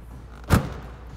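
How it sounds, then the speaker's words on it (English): A supercar door is shut inside a garage, giving a single muffled, fairly soft thud over a quiet background. "Okay, Grayson, I'm gonna shut this door if you don't mind for a second."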